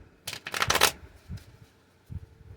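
A deck of cards is riffle-shuffled in a quick, crisp burst, followed by softer card handling nearby.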